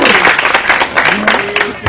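Studio audience clapping during a televised dance crew show, loud and close, with voices talking and calling out over the applause.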